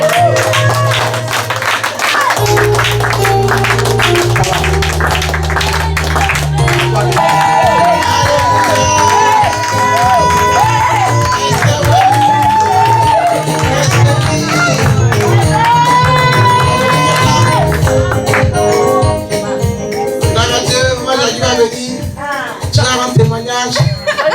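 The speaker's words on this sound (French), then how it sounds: "Acclamez fort le Seigneur." Church congregation cheering, clapping and shouting in acclaim during a worship service, a loud continuous crowd roar with whoops over music and a voice.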